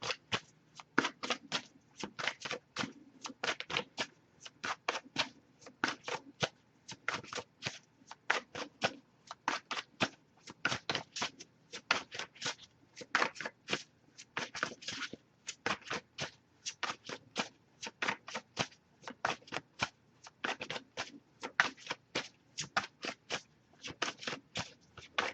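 Tarot cards are shuffled over and over in quick riffling bursts, a steady crisp rhythm of flicking and slapping close by, with no talking.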